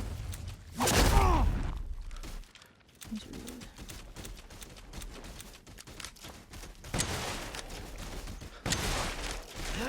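Gunfire in the video game Resident Evil Village, fired during the Mother Miranda boss fight. Loud bursts and reports come in a burst near the start and again toward the end, mixed with game effects and no talk.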